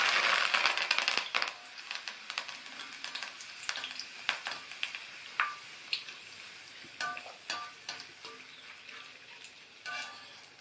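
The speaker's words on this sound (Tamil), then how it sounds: "சூடான எண்ணெயில் கருவேப்பிலை சேர்த்துக்கலாம்" Curry leaves crackling in hot oil just after the stove is switched off, poured over pakoda: a loud initial sizzle fading into scattered sharp pops and crackles over about ten seconds, with no talk.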